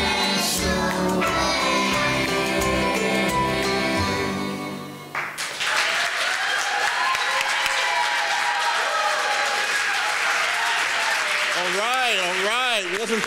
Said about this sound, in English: Let's give the kids another round of applause.